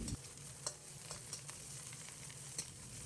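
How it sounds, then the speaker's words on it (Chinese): Onion shreds stir-fried over high heat in a hot wok, a steady close sizzle with scattered scraping clicks of a spatula stirring, no voices. "先放入准备好的洋葱丝，开大火把洋葱煸炒出香味"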